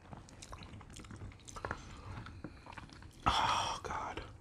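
Dungeness crab from a seafood boil is chewed right at the microphone, with wet, squishy bites and smacking in uneven bursts, one louder crunchy bite near the end, and no talk.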